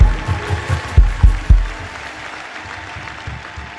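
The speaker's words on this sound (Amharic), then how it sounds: "አጨብጭቡ ለጌታ።" Congregation clapping at a church service: several loud, rhythmic claps up front, then softer, scattered clapping from the group.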